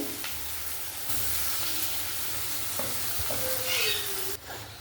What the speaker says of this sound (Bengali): তাও ছিটকাচ্ছে তো পেঁয়াজ কুচি দিয়ে দিলাম গোটা গরম মশলা দেওয়ার পরে